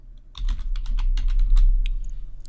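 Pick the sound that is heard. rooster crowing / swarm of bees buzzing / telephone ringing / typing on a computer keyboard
typing on a computer keyboard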